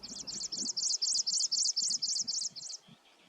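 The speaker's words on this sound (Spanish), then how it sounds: "El chal carbonero es otro pájaro que elige esta zona para reproducirse." A chal carbonero songbird in breeding habitat of scrubby hillside near a lighthouse in Argentina, repeating about a dozen rapid, high, even chirps in a steady rhythm, fairly close, then falling quiet.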